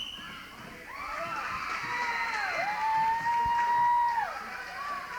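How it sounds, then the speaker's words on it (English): A home crowd at a 1984 boys high school basketball game, Calhoun Academy against Gray Academy, roars in the background throughout, while a commentator talks over the noise. "The crowd getting involved in the game, as you can tell by the sound about us."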